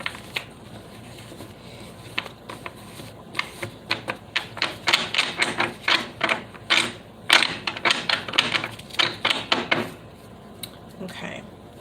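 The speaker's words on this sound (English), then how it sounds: "I'm going to do 7 shuffles for your spread" Tarot cards being shuffled by hand, a series of crisp riffling and slapping bursts in irregular rhythm, close and fairly loud, with quieter gaps between shuffles.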